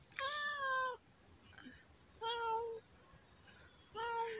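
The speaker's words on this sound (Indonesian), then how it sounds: "Ini kucing yang kemarin." A hungry, wary stray cat that has recently nursed kittens gives three clear, drawn-out meows, evenly spaced and close by, with quiet pauses between them.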